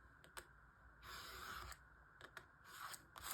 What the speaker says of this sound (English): we need to find the scalpel and ruler, of course, and just cut off